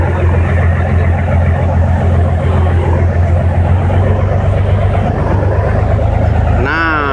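A passenger ferry's engine runs at full speed on a crossing near Batam, a loud, steady low droning roar filling the whole stretch, with a rising whine and faint voices near the end.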